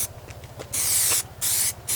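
An aerosol spray coats a car part in three sharp hissing bursts, the first longest, with a low steady hum underneath and no talking.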